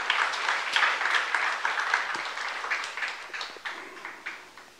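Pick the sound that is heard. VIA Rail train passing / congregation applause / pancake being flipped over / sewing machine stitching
congregation applause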